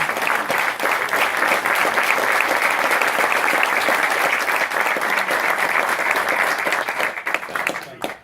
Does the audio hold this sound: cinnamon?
no